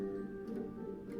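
A wall clock ticks softly in a quiet room, its faint, steady beats continuing alone for about a second over a low hum.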